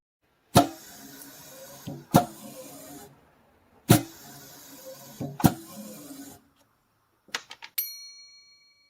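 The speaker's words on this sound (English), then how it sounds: "And we have a little compressor underneath that runs the whole thing." Compressor-driven heat staking machine pressing grills into in-ear monitor bodies, several sharp pneumatic thumps each followed by a short hiss, then a few lighter clicks and a faint high ring near the end.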